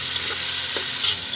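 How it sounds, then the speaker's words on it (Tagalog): Native chicken sautés in a hot pan, a steady loud sizzle of frying with stirring scrapes throughout, close and continuous with no voices. "Gigisan na natin yung ating native chicken"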